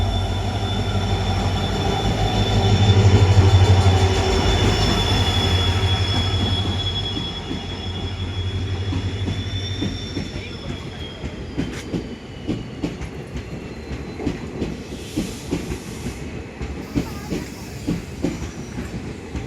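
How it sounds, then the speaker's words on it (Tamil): Two trains rumble past each other up close at Paramakudi railway station, a heavy rolling roar with squealing wheels and rhythmic clickety-clack that grows sparser as they clear. "ரெண்டு ட்ரெயினுமே இப்போ கிராஸ் ஆகுது"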